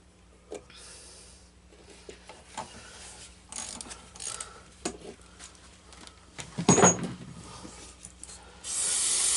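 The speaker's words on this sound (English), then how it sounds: "Almost lost that ratchet already." A ratchet wrench clicks in short bursts while a part comes off a garbage-picked Troy-Bilt push mower, scattered close mechanical clicks and clanks with a rising hiss at the end.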